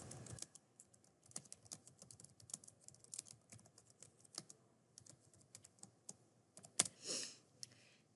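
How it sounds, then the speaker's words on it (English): Fast, steady typing on a computer keyboard while entering a sentence into Google Docs, a close run of light key clicks with a heavier keystroke or two near the end, and no talking. "And then I will type a sentence."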